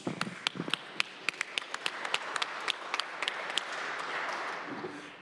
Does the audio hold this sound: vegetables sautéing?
no